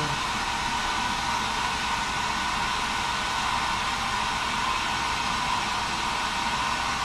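A blower-type hair dryer runs steadily and loudly for the whole stretch, a constant broadband whoosh with no pauses and no voices over it.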